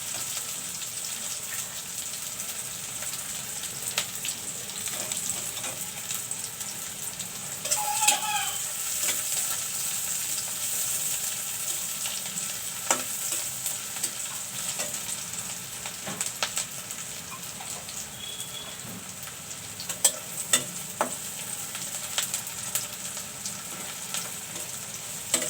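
Dried fish (shutki) frying in a pan, a soft continuous sizzle with occasional stirring scrapes and light clinks over a long stretch.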